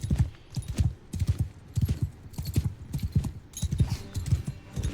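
Rapid, rhythmic hoofbeats of a galloping horse in Mount & Blade II: Bannerlord, steady and fairly close, drumming in repeated clusters of thuds without a pause.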